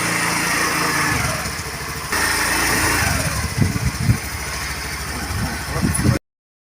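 A small motorbike engine runs while a young girl learns to ride a two-wheeler outdoors in bright sun, idling with uneven chugging pulses and short revs close by before cutting off abruptly.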